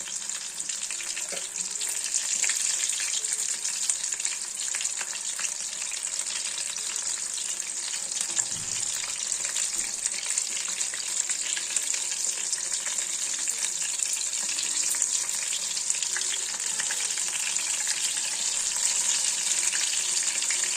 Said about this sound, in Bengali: একদিকটা ভালো করে ভাজা হলে উল্টে দেব